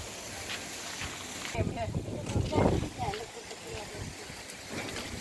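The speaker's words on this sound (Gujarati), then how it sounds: "પવન એટલો ઉપડો છે જો તરફ" Strong gusty wind buffets the microphone outdoors at a village farm plot before rain, a steady broadband rush with louder gusts, while people talk over it.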